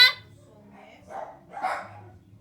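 Pet dogs bark at home, a few sharp, fairly close barks spaced across a couple of seconds over a low indoor hum.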